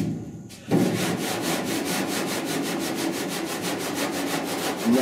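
Body filler being block sanded on the rear cab panel of a 1966 Ford F100 truck, a steady rhythmic back-and-forth scraping rasp of repeated strokes, close and loud, starting after a brief quiet moment, with no talking.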